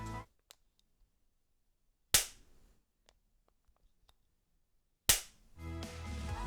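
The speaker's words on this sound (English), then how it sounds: "the hinge is not the most satisfying to open since it's made out of plastic" The plastic hinge of a Redmi Buds 5 Pro charging case snaps open in two sharp, close clicks a few seconds apart, with quiet stillness around them.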